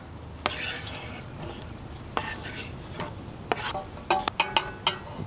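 Onions, garlic and octopus sauté in a hot pot, with a soft background sizzle under a series of sharp metal utensil clinks and scrapes that come faster toward the end.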